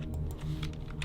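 Rapid, light clicks of a computer mouse entering notes in FL Studio, several quick taps in an uneven rhythm, close and fairly soft over a low background hum.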